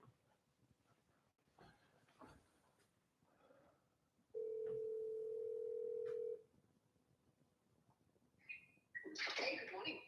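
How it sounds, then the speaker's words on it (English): A telephone dial tone on a speakerphone in a studio sounds as one steady, fairly loud tone lasting about two seconds. Quiet talk and room noise come before it, and a brief burst of bright noise follows. "We're going to give you a call, Allie."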